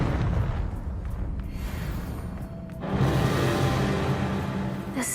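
A Confringo spell blast goes off while battling spiders in the video game Hogwarts Legacy, a loud sustained explosive roar that dips briefly, then surges again into another powerful rumbling burst.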